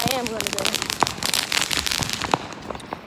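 Fireworks bursting at a Fourth of July celebration, a dense run of crackling pops and sharp reports close by, with a few louder bangs standing out and people talking underneath.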